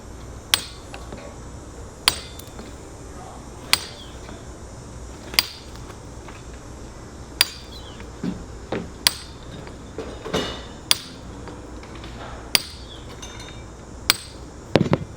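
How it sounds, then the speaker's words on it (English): A hammer strikes a chisel against natural stone being dressed for a masonry wall, sending sharp, ringing metallic clinks at irregular intervals over a faint background hum, close by with no talking. "The more we chisel off, the skinnier the corner will be."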